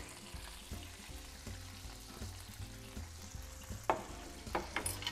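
Monkfish fries in oil in a pan with a soft, steady sizzle and crackle, punctuated by faint stirring clicks and occasional sharper pops near the end.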